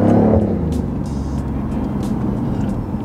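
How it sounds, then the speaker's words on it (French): BMW i8 plug-in hybrid supercar engine dropping down through the gears, a steady close engine drone with a brief surge at the start and no talk. "Là j'ai rétrogradé trop fort"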